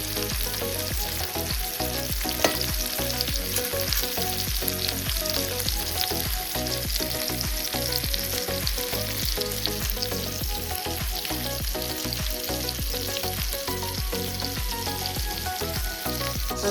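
Prawns coated in rava, Goan cafreal style, sizzle and fry steadily in a hot pan, a dense continuous crackle with frequent small pops and stirring scrapes throughout.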